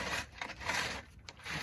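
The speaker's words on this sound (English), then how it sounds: "And we're just gonna scrape." A tool scrapes soil to level the base for a retaining wall, making several short, close, quiet rasping strokes with brief gaps between them.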